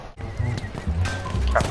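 A horse in the Battlefield 1 war game gives a loud, close whinny, with clip-clopping hooves and game noise underneath and a brief neigh-like burst at the end.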